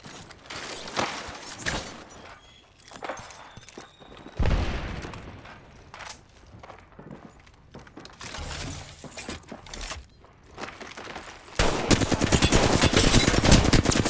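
Rapid bursts of automatic gunfire and scattered shots ring out in a battle royale video game, growing into a loud, sustained barrage toward the end, with no talk.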